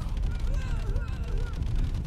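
Cannons fire in Totally Accurate Battle Simulator amid a modded battle, with dense rumbling booms and crackling gunfire blending into a continuous roar under background noise.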